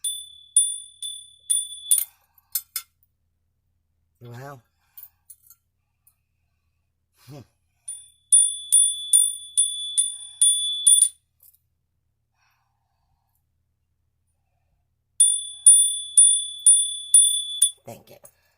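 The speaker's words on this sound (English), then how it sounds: "Let me hit the bell." A small hand bell is struck in three bursts of rapid, bright metallic dings, each ringing for a few seconds, with a brief sigh-like voice between them.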